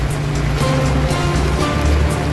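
Floodwater rushes steadily through a Muslim cemetery in Faizpur, flowing over the graves as a loud, continuous wash of water with no pauses.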